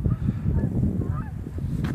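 Geese honk loudly and repeatedly at close range near a cemetery, their calls overlapping in a noisy flock chorus.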